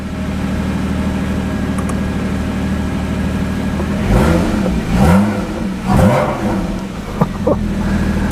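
A Porsche Boxster 981 GTS with a switchable sports exhaust idles with a low, even burble, then gives several sharp revs in close succession, loud and near, before settling back.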